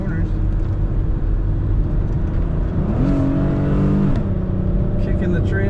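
A 1993 Oldsmobile Cutlass Supreme convertible on the road, a steady loud engine and road roar from inside the car with a brief rise in engine pitch, as a voice talks over it throughout.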